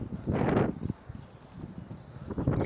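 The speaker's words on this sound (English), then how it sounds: "oh, getting windy" Gusty wind buffets a microphone on a downtown Montreal street, a loud rushing burst early on, then lower blustery rumble and another swell near the end, with no talking.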